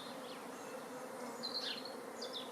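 Honeybees fly around a freshly settled swarm, a thin, steady buzzing with individual bees droning past the microphone in brief swells, outdoors and without voices.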